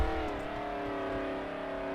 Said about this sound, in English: 1970s Groo van has the same engine noise as a 1969 Manta Ray